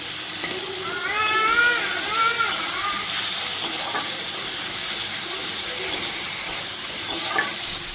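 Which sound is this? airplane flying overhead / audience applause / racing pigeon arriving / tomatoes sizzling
tomatoes sizzling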